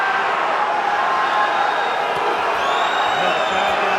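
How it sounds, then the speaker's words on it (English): A restless crowd at a professional fighting event during a ground grappling exchange, a steady wash of murmuring and scattered shouts filling the arena, with a commentator talking over it. "The crowd getting restless."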